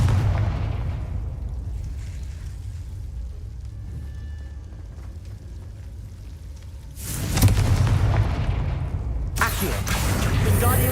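A Confringo blasting spell in Hogwarts Legacy goes off as a sudden loud burst after a quiet stretch, followed by a second explosive blast moments later, both with broad roaring tails.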